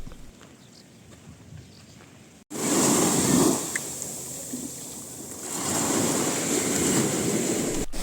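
Waves wash onto a beach near Fréjus, France, with a continuous broadband roar that swells after a brief quieter stretch and then holds loud and close, with wind buffeting the microphone and no talking.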